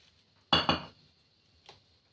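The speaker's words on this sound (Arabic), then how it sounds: "بصي دي طماطم انا قطعتها بالشكل ده مره واحده كده، نحطها مره واحده" Chopped tomatoes tipped all at once into a cooking pan land with a close, heavy double clatter lasting under half a second, followed a moment later by a single faint clink.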